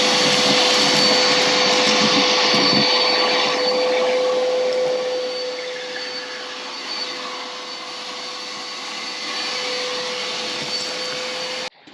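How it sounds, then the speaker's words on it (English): A new vacuum cleaner runs while cleaning the interior of a 1994 Mk3 Volkswagen Golf, a loud steady motor whine with a sustained tone, shifting as the nozzle moves, then cutting off abruptly at the end. "Also, I got a new vacuum"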